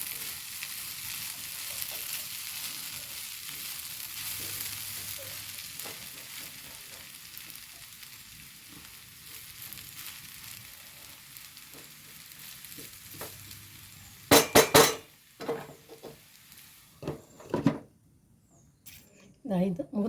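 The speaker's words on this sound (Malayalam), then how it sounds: "അതും കൂടെ ചേർത്ത് കൊടുക്കുന്നുണ്ട് ഒന്ന് ഇളക്കി കൊടുക്കാം" Ridge gourd and prawn thoran is stirred in a pan with curry leaves, a soft steady sizzle running through most of the stretch, then sharper scraping and clanking strokes of the spoon near the end.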